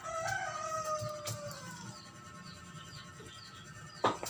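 Chickens and a rooster around a home yard, with a crowing call drawn out at the start, soft clucks scattered through, and a sharp clatter near the end, all fairly faint.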